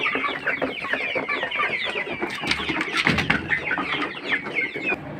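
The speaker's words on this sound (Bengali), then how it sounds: "এগুলো হচ্ছে টাইগার মুরগি" Tiger chickens hatched in an incubator cluck and chirp continuously in a hatchery room, a dense close chorus of overlapping calls with no talk.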